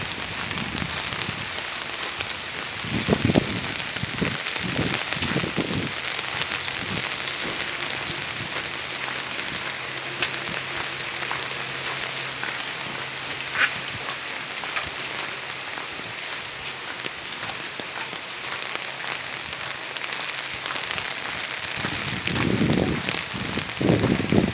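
Heavy rain drums steadily on an umbrella on a wet morning, a dense continuous patter heard up close with a few louder gusty bursts near the start and end.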